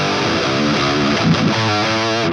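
An electric guitar runs through a high-gain distortion plugin, with a dense, fuzzy, saturated tone sustained over a few chords, loud and continuous with no talk.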